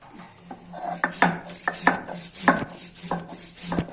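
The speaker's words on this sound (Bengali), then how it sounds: "সরিষা ইলিশ রান্না করার জন্য সরিষা গুলা পরিষ্কার করে ধুয়ে নিচ্ছি, এখন বেটে নিচ্ছি" Washed mustard seeds being ground into paste for mustard hilsa give a rhythmic series of scraping, knocking strokes, close and moderately loud, with short pauses between them.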